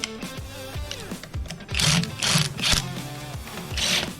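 Power tool gun driving in pressure plate bolts on an Aim/SDR variable pressure plate, a close whirring motor in short pulses with rattling bursts of impact as each bolt is run in.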